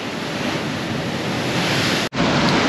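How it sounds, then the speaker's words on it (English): Ocean waves surge steadily into a hole in a sea cave at Oualidia, a loud continuous wash of churning water and spray with a brief dropout near the end. "That was a big splash. Apparently it came in one of the other holes."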